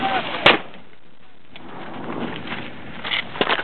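120 mm mortar firing outdoors, one sharp loud blast near the start followed by faint thumps and bits of shouted speech from the crew against background noise.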